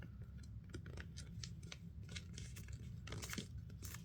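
Sheet of paper being creased and folded by hand while making an origami SR-71 Blackbird, giving a steady run of close crisp crinkles, rustles and sharp crease snaps with no talking.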